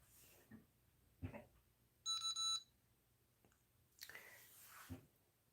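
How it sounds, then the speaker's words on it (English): A FreeStyle Libre glucose sensor reader sounds one short burst of rapid electronic beeps, faint and close, between quiet handling rustles. "The beeper went off."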